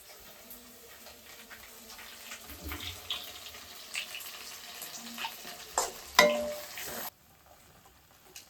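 Goat blood frying and being stirred in a pan, a faint sizzle with scraping and stirring sounds, then a louder clatter near the end before it drops quiet.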